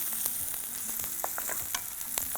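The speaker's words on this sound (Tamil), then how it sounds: "பொன்முருவலாக வர வரலும் இதை வதக்கிறோம்" Onion and curry leaves sauté in hot oil with a steady close sizzle, punctuated by quick light taps and crackles as the pan is stirred.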